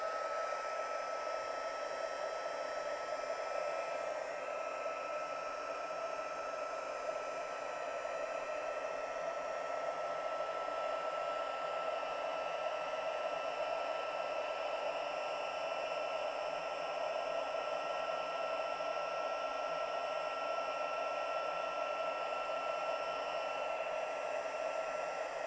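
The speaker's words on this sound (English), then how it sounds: "then I'm going to use my heat gun" A heat gun blows hot air for a gel press craft project, a steady, unbroken whooshing roar that stays level and continuous throughout, with no talking.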